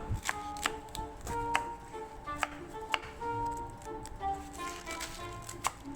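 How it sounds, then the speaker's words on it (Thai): Rapid knife chops on a cutting board cutting napa cabbage into bite-size pieces, sharp irregular taps repeating steadily, close and fairly quiet with no talking. "ผักอื่นๆอย่างเช่นผักกาดขาวก็หั่นเป็นชิ้นพอดีคำนะครับ"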